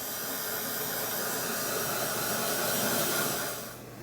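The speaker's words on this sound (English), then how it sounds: "Again, give it a blast with the heat gun." Heat gun blowing hot air to dry paint, a steady close whooshing roar of fan and hiss that holds evenly and then drops off as it is switched away near the end.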